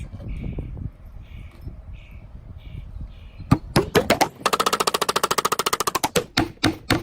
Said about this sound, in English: I'm just going to quickly nail in each side so that it attaches together